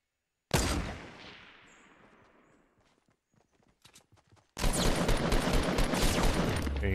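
Gunfire in Fortnite Battle Royale: a single loud shot with a long fading tail, a few scattered quieter pops, then a sustained dense burst of rapid shots through the end.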